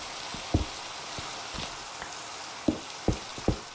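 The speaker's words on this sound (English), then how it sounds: "Why does it feel like the rain is getting louder and louder as I'm trying to talk over it?" Steady rain hisses in the video game Minecraft at moderate volume, with a few sharp soft knocks scattered over the constant patter.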